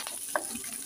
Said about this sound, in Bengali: বাদামটার সাথে আমি কিছু পেঁয়াজ আর রসুন কুচি করে রেখেছি, এগুলোকে আমি ভালো করে ভেজে নেব।